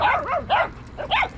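A mother dog protecting her puppies gives several quick, sharp barks and yips in close succession, near and fairly loud, with no speech over them.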